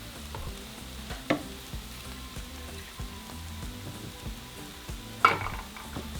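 Chicken and tomato sauce mixture simmers and sizzles in a pan, a steady low bubbling crackle with a few louder stirring scrapes and clacks of a utensil, no voices.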